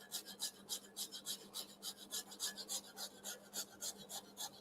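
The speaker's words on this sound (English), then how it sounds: "holding the zester at an angle" A zester rasps along the edge of a baked gingerbread house panel in quick, steady strokes, each scrape a bright, gritty burst repeating about four times a second, close and fairly soft.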